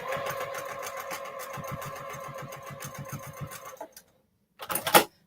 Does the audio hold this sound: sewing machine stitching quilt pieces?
yes